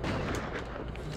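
Gunfire in the Outlaws video game, a short, dense burst of booming shots rolling together at close range over a rumbling background.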